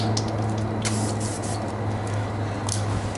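A Krylon spray paint can fitted with a male valve and yellow adapter cap hisses in short, steady bursts at close range, one spray following another with no talking.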